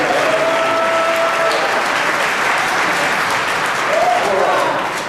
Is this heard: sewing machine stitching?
no